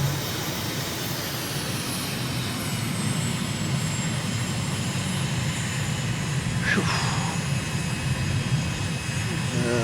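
Steady airplane engine drone from a flight simulator as the aircraft climbs out after takeoff over Lusaka, Zambia, with gear and flaps retracting; a continuous, fairly loud broadband roar with a brief whine partway through.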